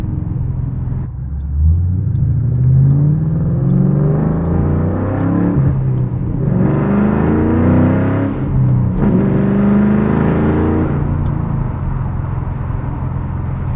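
A loud 2007 Ford Mustang Shelby GT S197 with a 5-speed manual, heard from inside while driving: a deep, continuous engine rumble that rises and falls through revs and gear changes, close and dominant throughout.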